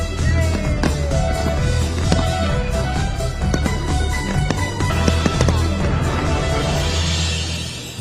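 Fireworks exploding at a display in Thailand: a steady barrage of loud, sharp bangs and crackles bursting close together over a continuous low rumble, with no talk.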